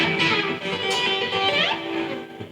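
An electric guitar lick played at speed: a quick run of bright, sustained notes with a swooping slide midway, loud and close, with no speech.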